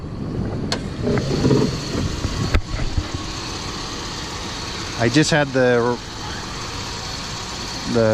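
A high-mileage engine with almost 300,000 miles, leaking oil from its valve cover gaskets and smelling of burning oil, idles steadily close by, with someone talking over it partway through.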